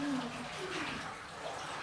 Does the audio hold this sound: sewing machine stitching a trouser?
no